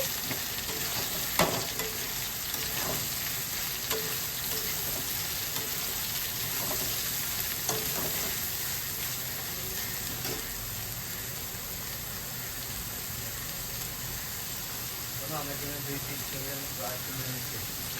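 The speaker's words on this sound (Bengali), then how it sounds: "সয়াবিনটা দিয়ে একটু ভালো করে ভাজা ভাজা করে নেব।" Soybean chunks frying in a pan for soybean chilli, giving a soft, even sizzle with light stirring scrapes, fairly quiet and steady from start to finish, with faint voices in the background.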